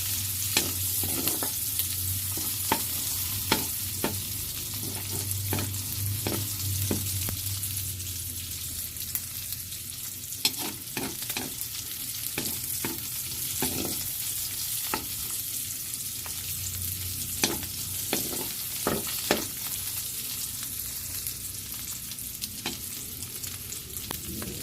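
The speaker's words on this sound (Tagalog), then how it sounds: "Igisa natin ito kasabay nitong sibuyas na nauna natin na inilagay." Garlic and onion sauté together in a pan for Filipino ginisang mongo, with a steady sizzle and frequent sharp scrapes and knocks from stirring.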